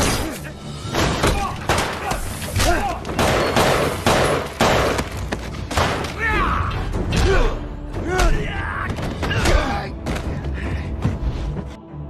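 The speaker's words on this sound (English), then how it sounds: "he takes a stand, unleashing a barrage of gunfire on the assailants downstairs." A film shootout as a man fires a barrage of gunfire at assailants downstairs: dense, loud bursts of shots with sharp cracks, thuds and mechanical clatter, continuing through the whole stretch amid shouting and other action noise.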